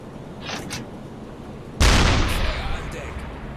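A submarine's deck gun in the UBOAT game fires a round at an enemy ship, a sudden loud blast that rolls on into a long rumbling tail. Fainter scattered crackles and thuds come before it.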